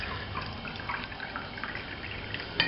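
Clear liquid is poured off rinsed brewing yeast into a jar, giving a close, continuous trickle with small splashes and drips.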